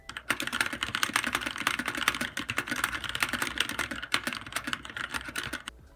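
Rapid, steady typing on a mechanical keyboard fitted with Drevo black switches, dense close clacks running continuously with no speech.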